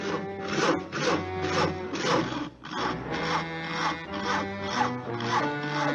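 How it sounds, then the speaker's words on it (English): A hand saw rasps back and forth through a tree limb in a steady rhythm of about eight strokes, close and clear. "Isn't that your house Harry is sawing on?"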